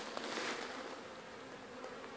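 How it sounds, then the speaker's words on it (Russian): Honeybees leaving a hive on their first cleansing flight in March keep up a continuous mid-level buzz with a few sharper passes of single bees near the microphone, and no voices. "чтобы не мешать пчеле облетываться"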